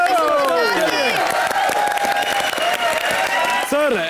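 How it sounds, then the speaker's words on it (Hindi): Studio audience applause and cheering for a Bhojpuri superstar on a comedy show stage, dense and steady throughout, with a host's voice and music cues over the clapping. "जोरदार तालियां हमारे भोजपुरी सुपरस्टार के लिए"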